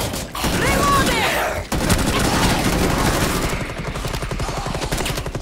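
Rapid gunfire from the Operation Outbreak video game plays loudly and almost without pause, with dense bursts running throughout and no voice on top.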